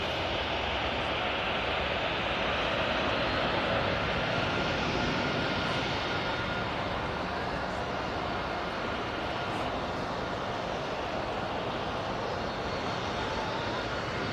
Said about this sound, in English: Just prior to this Ryanair coming past us.